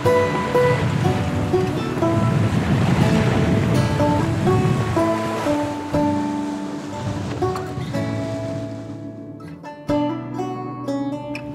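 A sailboat cruises under sail on the sea off Maine, with steady waves and water rushing along the hull and light wind, overlaid by sustained tonal sounds throughout.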